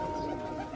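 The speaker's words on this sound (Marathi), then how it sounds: "नाशिकचे गावरान कबूतर कसे उडत्या बिना काजू बदामचे." Racing pigeons at a pigeon competition in Nashik coo in a steady, continuous low murmur close by, with no voices over it.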